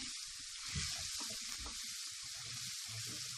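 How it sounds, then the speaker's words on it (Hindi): Garlic turning golden while frying in hot oil for a chilli garlic sauce, a steady bright sizzle with soft stirring bumps underneath, close and fairly quiet. "ये गार्लिक हमारा गोल्डन हो रहा है।"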